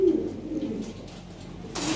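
Pigeons kept for sale give a low, soft cooing near the start, then a quieter hum of birds and room noise with faint chirps at the end.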